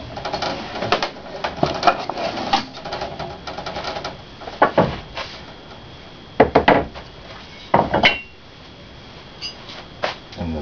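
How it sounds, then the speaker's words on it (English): A brass hammer knocks an axe head off its wooden handle: irregular sharp knocks, some in quick clusters and a few louder isolated blows, close up and otherwise quiet. "That's when you get the brass hammer."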